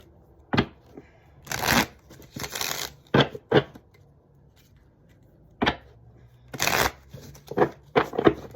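Tarot cards are shuffled in several quick riffling bursts with short pauses and sharp taps in between, close and moderately loud.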